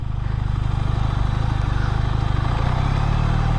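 A QJ SRK400 motorcycle crawls in first gear, its engine a loud, steady low thrum with an even pulsing beat and no revving, close and continuous.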